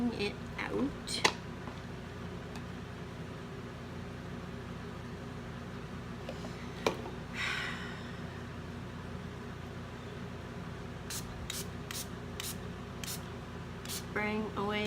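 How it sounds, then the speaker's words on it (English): Several quick hissing spray bursts in a rapid row near the end, after a few scattered earlier ones, over faint background hum, spraying away bubbles on freshly poured melt-and-pour soap. "Spraying away the bubbles."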